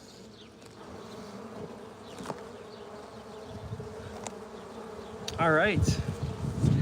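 Honeybees swarm around opened hives, their dense buzzing drone filling the air steadily and close by, while someone speaks briefly.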